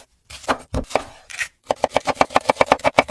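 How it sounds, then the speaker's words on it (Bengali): Onions chopped with a knife on a board: a few separate close, sharp chops, then a quick, even run of about a dozen rapid strikes, with no talk. "আরে মালিক একটু আস্তে আস্তে কাটো না, না হলে তো তোমার হাত কেটে যেতে পারে।"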